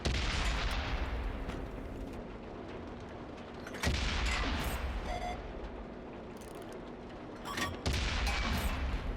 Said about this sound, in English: I switched back to my regular AP rounds to shoot at the enemy light tank